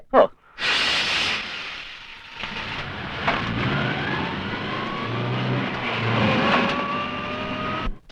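A car engine turns over and starts, then revs and pulls away with a loud rising whine that holds steady, voices briefly heard at the start.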